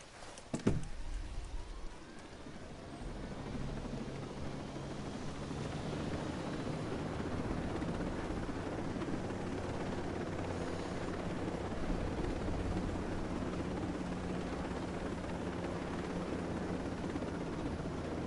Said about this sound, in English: I'm gonna go back to the chopper.